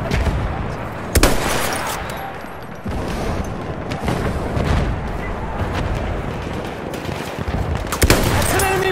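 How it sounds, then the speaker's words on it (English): An enemy machine gun fires in a Battlefield 1 multiplayer match, heard as dense, rapid bursts with heavy booming impacts. It stays loud and continuous, and a voice can be heard faintly beneath the battle noise. "That's an enemy machine gun!"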